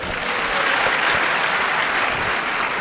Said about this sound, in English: If there's any more clapping, I ask everybody to go away.